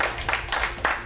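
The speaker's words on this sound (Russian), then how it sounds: "Аплодисменты!" Studio audience at a Russian quiz show claps briefly in a short burst of applause, close and fairly loud, with no talk over it.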